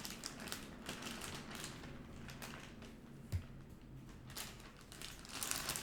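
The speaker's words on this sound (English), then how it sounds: "remove the dough from the plastic bag and place it on a very large sheet of plastic wrap" Dough is handled in a plastic bag and on a large sheet of plastic wrap in a home kitchen, producing close, irregular crinkling and rustling with a soft bump midway.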